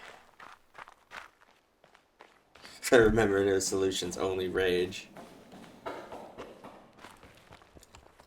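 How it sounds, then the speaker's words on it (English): Footsteps in The Witness, a run of close, crisp steps that grow louder and busier midway, with someone talking over parts of it. "They put a lot of thought into their footstep noises, at least."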